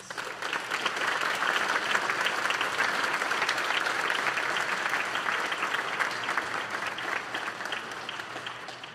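Sustained audience applause at a high school National Honor Society induction ceremony, dense and even clapping from a large crowd that holds steady for several seconds before easing slightly at the end.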